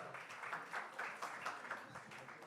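A church audience applauds a guest speaker at a Sunday service, a soft, steady patter of many clapping hands heard from some distance with no talk.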